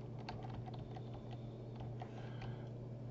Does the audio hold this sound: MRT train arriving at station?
no